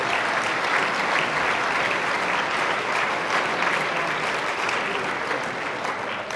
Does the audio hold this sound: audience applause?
yes